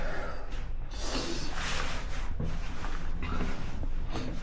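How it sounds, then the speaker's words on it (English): Someone close by blows their nose forcefully outdoors in cold air, with several rough, noisy bursts over a few seconds. "To blow my nose."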